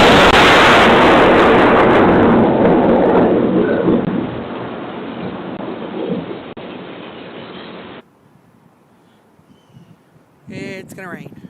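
A violent thunderstorm roars close by, a loud crack of thunder rolling into a long rumble with heavy rain that fades out around eight seconds, leaving quiet before a brief voice speaks near the end.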